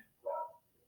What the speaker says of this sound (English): you might be able to hear my dog barking.